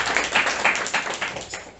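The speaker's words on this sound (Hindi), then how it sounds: "जोरदार तालियों के साथ हम स्वागत करें।" Church congregation in Lucknow clapping to welcome a first-time visitor, a close run of fairly even claps at a brisk pace, moderately loud, with no speech over them.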